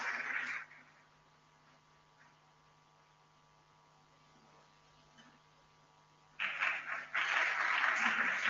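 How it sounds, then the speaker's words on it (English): Applause from an audience at a skills summit venue briefly fades out, leaving a quiet stretch with a steady electrical hum, then a loud burst of clapping returns and continues to the end. "All of you, please show your appreciation through that,"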